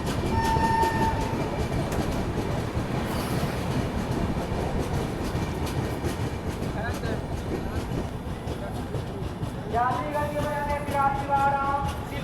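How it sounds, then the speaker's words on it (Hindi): The Visakhapatnam Express pulls into Dehri on Sone railway station, a continuous loud rumble of wheels and carriages with horn blasts at the start and again near the end amid crowd noise. "और अभी ट्रेन पहुंच रही है Dehri on Son railway station पे।"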